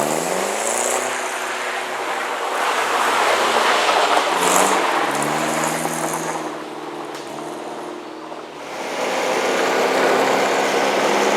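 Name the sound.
Lotus Europa sports car engine driving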